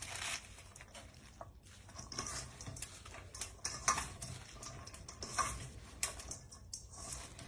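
Shredded cabbage being kneaded by hand for homemade sauerkraut, with soft irregular crunching, squelching and rustling pats close by, fairly quiet and uneven in rhythm.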